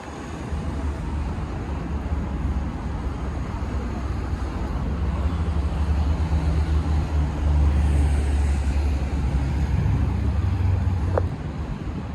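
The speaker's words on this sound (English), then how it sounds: "Bit noisy with the traffic" Traffic rumbles on a city street in Alicante, Spain, with a steady low roar of passing cars and trucks close by and a slight swell midway through.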